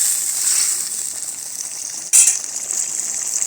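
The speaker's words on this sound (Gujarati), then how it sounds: "હવે આપણે સેવ ઉમેરી દઈશું. મિક્સ કરી લઈશું." Sev is stirred into tomato sabzi frying in a pan: a steady soft sizzle with one sharp clink and scrape of a spoon against the pan partway through.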